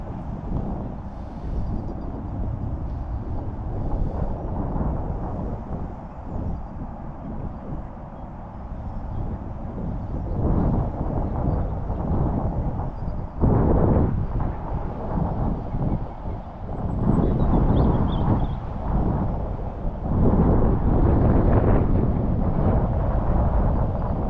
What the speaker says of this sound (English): The wind is horrid.